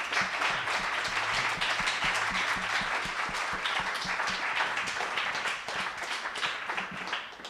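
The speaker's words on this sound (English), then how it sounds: "let's give these folks a big round of applause" A crowd gives steady, dense applause for the speakers at a talk on workers and organizing, a continuous wash of many hands clapping that fades slightly toward the end.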